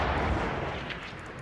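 A tank cannon fires in Battlefield 1, and the blasts and explosions merge into a loud, dense rumble that slowly fades.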